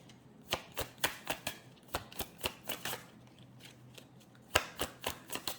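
Tarot cards shuffle and are drawn in a quiet room, making a run of crisp, close snapping and riffling clicks in irregular bursts.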